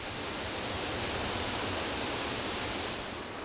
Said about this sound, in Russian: дать жизнь ручейкам, говорливый шум которых заглушает все другие звуки